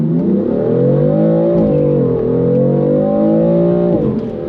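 A 2015 BMW M3 accelerating hard from a standstill, its engine roaring loud and close in a sustained rising drone with shifting pitch through the gears, no voices over it.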